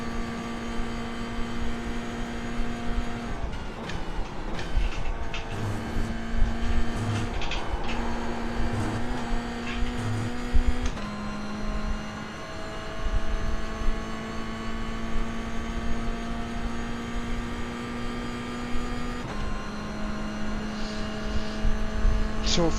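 A race car engine at full throttle on a straight in the iRacing simulator, a high-pitched sustained tonal whine that climbs in pitch through each gear before dropping at the shifts, loud and continuous.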